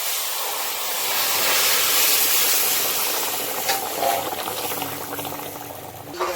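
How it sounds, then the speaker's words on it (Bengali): A bay leaf and a little cumin fry in hot oil, giving a loud, broad sizzling hiss that swells and then settles, with small crackles and a faint clink near the end. "একটা তেজপাতা, অল্প কিছু জিরে দিয়ে আমি তেল ভাজবো।"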